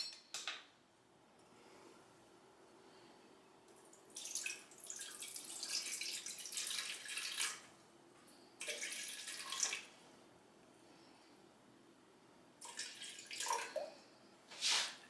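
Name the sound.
spooning water onto kitchen scale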